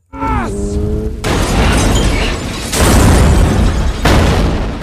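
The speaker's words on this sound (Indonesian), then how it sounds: "membuat nos dalam mobil itu meledak dan menghancurkan mobilnya" A short creature-like wail is cut off by a huge roaring blast as a car's nitrous system explodes in The Fast and the Furious, followed by sustained crashing, rumbling debris and two more heavy bursts, very loud and close.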